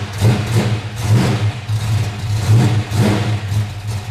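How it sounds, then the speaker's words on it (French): A cold car engine with an aggressive camshaft idles close by, lumpy and uneven with rhythmic surges in its low rumble, no talk. "Elle a son petit ralenti là."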